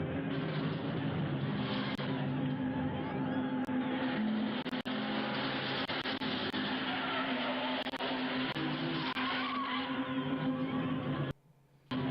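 A car drives in Teenagers From Outer Space as a steady engine hum that runs loud and unbroken, with small clicks and a brief dropout near the end.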